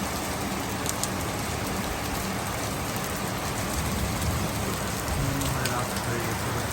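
Heavy rain pours over Dhaka city at nightfall, a dense, steady hiss of drops hitting surfaces, loud and unbroken from start to finish.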